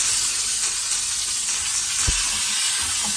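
Garlic, onion and tomatoes sauté in a hot pan for corned beef, giving an even, continuous sizzle with one brief low knock partway through and no talking.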